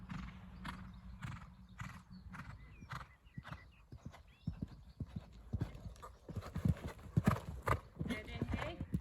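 Horse hooves canter during a showjumping round, a rhythmic clip-clop of thudding footfalls that gets louder and closer, with a whinny and a coach calling instructions over it.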